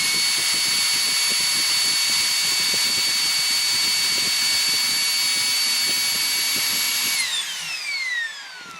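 A small lithium-ion vacuum cleaner motor, pulled from a dumpster-found vacuum and run on a bench power supply, whines loudly and steadily at high speed, then winds down in pitch near the end.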